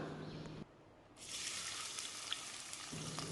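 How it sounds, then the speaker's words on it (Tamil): Onions sauté in coconut oil with cinnamon and cloves, giving a soft steady sizzle with a brief dip to quiet partway through before the frying hiss resumes. "பட்டை, கிராம்பு பொரிஞ்சாக்கில் நம்ம கட் பண்ணி வச்சுருக்க வெங்காயம் சேர்த்து வதக்கிக்கலாம்"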